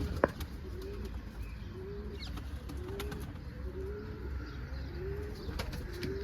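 A pigeon coos softly in a repeated, evenly spaced rhythm of low, rounded calls, several in a row against a quiet background with occasional small clicks.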